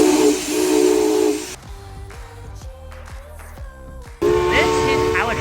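A narrow gauge steam locomotive on the Durango and Silverton line vents loud, broad hissing steam at close range, drops away while someone talks over quieter mechanical clanks, then bursts out hissing again.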